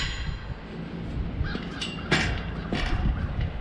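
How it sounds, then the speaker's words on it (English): A crow caws outdoors near a chicken yard spread with wood chips, giving a few separate harsh calls at moderate distance over a low rumbling background. "Oh, there's a crow."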